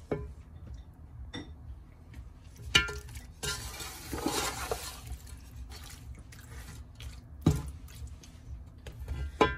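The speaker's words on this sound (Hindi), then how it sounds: "थोड़ा सा अच्छी तरह से इसको मिक्स कर लेती हूँ।" Chicken pulao is stirred in a cooking pot, with repeated scraping and squelching strokes, soft moist sizzling and occasional sharp clinks of the spoon against the pot, heard close and alone.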